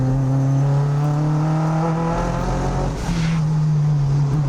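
Mazda MX-5 race car on a track lap, its engine droning steadily at high revs throughout, close and loud, with a brief dip around a corner entry before pulling hard again.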